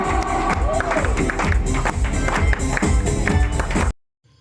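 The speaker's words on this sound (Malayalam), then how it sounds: "കൈയടി കൊടുക്കാം" Clapping and crowd noise fill a gym inauguration ceremony for RMCO Slim Fit Gym in Peringottukara, Thrissur, a dense burst of applause lasting about four seconds before cutting off abruptly to silence.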